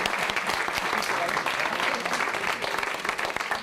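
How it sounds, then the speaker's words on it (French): Sustained applause from the audience at a club's general assembly in Cluny, honouring the treasurers; dense, steady clapping from many hands fills the room throughout. "Vous pouvez applaudir les trésorières."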